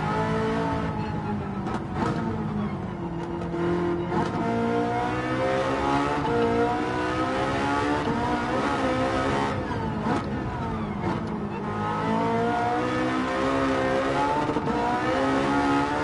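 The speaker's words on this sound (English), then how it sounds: "Got a nice crackle to the exhaust." A Porsche 918 in Gran Turismo 7 revs and accelerates with shifting engine tones, the exhaust crackling and popping as the pitch rises and falls, loud and close with no talk.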